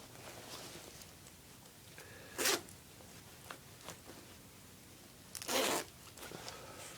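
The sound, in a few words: double zippers on a British army jacket pocket being opened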